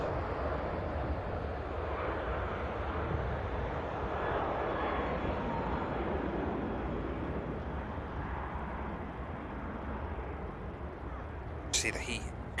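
A Ryanair airliner on its takeoff roll at Manchester Airport, a steady broad jet engine roar held at a distance for the whole stretch, with a brief sharp click near the end.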